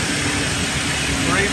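A 1988 Land Rover with a 3.5L engine, just back together after head gasket replacement, idles with a steady, even rumble, loud and close, and a voice talks over it.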